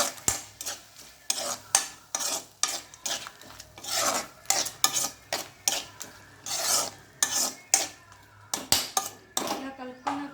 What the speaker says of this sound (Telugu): ఇందులో ఉప్పు, కారం, అలాగే పసుపు ఈ 3 వేసుకొని బాగా కలుపుకోవాలి